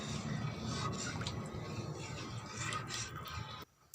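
A thick palo pitha mixture being stirred nonstop as it boils, giving a steady wet bubbling and squishing that breaks off suddenly, close up with no talk.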